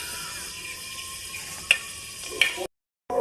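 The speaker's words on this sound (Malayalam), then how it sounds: "കുറച്ച് ജീരകവും പെരുംജീരകവും കുറച്ച് ഉലുവ ഇടാം" Cumin, fennel and fenugreek seeds crackle and sizzle in hot oil in a pan, a steady close frying hiss with a couple of sharp pops before it cuts off.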